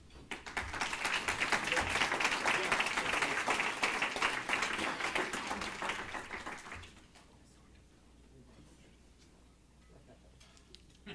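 Luncheon audience applauding an award recipient, dense sustained clapping from a large crowd for nearly seven seconds before it dies down into quiet room murmur.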